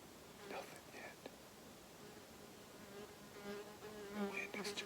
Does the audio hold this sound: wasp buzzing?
yes